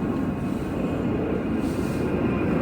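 A light aircraft engine on its first start, throttle full forward, makes a loud, continuous broadband roar with a steady high whine running underneath, holding close and even throughout.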